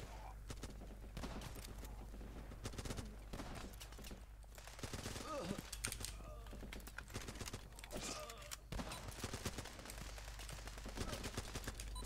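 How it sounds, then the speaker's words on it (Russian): Rapid muffled gunfire from a suppressed weapon in the game Running With Rifles, steady bursts with sharp clicks over a constant low hum, no clear talking. "Пушка с глушачком."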